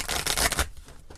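A deck of tarot cards gets a brief, close shuffle, a quick dense burst of papery riffling that fades after a moment.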